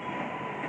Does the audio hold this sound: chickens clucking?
no